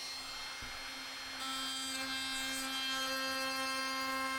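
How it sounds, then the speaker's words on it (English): A router spins up with a high steady whine and then bites in as it chamfers the edges of a wooden workpiece, the tone holding constant and close. "So I'm just softening the edges off here with a chamfer."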